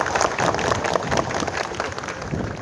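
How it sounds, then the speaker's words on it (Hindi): Audience applause at a fire drill and heart attack first aid training session, a dense steady burst of many hands clapping together for a few seconds, fairly loud and filling the room. "ताली बजाओ ना फिर।"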